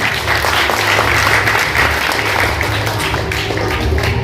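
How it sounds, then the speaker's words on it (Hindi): Applause from a seminar audience, steady and loud with many hands clapping together in a continuous roar for several seconds, with no talk over it. "एक बार जोरदार ताली बजाएं आपने।"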